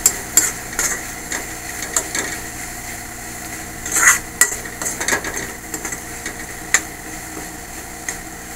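Tomato and onion cook in a pan with salt as a spoon stirs them, giving scattered scraping clinks over a steady sizzle, close and moderate in level, with no talking.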